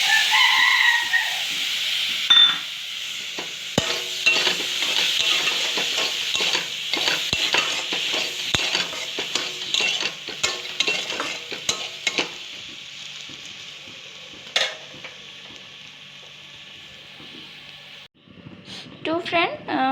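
Chopped tomato sizzles in a hot pan while dried fish is cooked, with steady frying crackle and repeated clinks and scrapes of stirring, and a voice speaking over the cooking.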